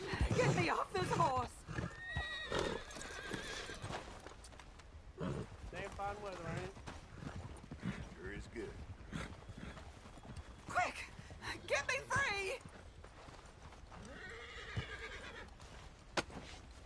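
In the video game Red Dead Redemption II, a horse whinnies and its hooves clip-clop under intermittent speech from characters, with short neighing bursts between stretches of talk.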